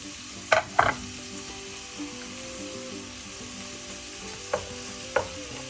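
Crushed ginger and garlic sautéing in a pan, a low steady sizzle with a few sharp spoon knocks and scrapes against the metal.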